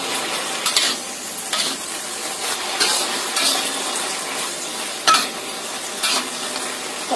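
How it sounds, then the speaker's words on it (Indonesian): A cornstarch and water slurry is stirred until smooth in a simple stir-fry, with a utensil swishing and scraping in repeated strokes over a continuous close sizzle. "Maizena ditambahkan dengan 3 sendok makan air. Kita aduk sampai rata."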